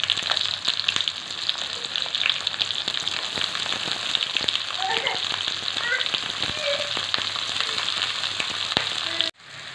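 Onions crackle and sizzle in hot oil in a pan while an aloo parwal curry is being cooked, with a dense, steady spatter of pops running close up for nearly ten seconds before cutting off abruptly.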